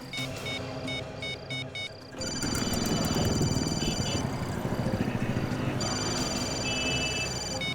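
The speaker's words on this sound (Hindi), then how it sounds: "जब ये फोन लगा रहा है, घंटी की आवाज आसपास से आ रही है।" An electronic phone ringtone trills in repeated bursts over a noisy background of engine rumble and street sound.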